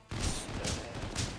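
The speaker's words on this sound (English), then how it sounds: "I saw a little bit of gunshots there on your screen" Gunfire from the Final Fantasy VII video game rattles in a few dense bursts, loud and punchy with crashing impacts, filling the short stretch without any talk.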